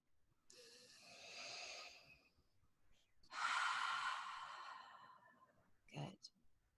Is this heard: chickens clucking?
no